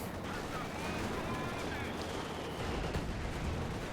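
Dense gunfire and artillery from a Company of Heroes 2 battle with an anti-tank gun under fire from two squads, forming a continuous roar of shots and blasts with a voice talking over it.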